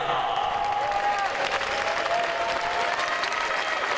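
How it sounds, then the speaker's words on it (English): Steady applause from the audience at the IFSC Climbing World Championships paraclimbing final in Paris, 2012, greeting a finalist from India; sustained clapping fills the hall, with faint crowd noise and a voice partly over it. "make a big applause on the climber, the people, everybody"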